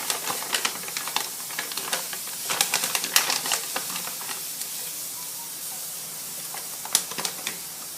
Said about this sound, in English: I'm going to add in 1 spoon of psyllium husks